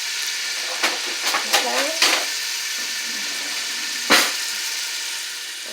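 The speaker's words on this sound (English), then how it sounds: "So I'm going to let that cook until it sweats." Food frying in a pan for a spaghetti dinner, a steady sizzle running throughout with a few sharp stirring clatters and scrapes; a brief word is spoken.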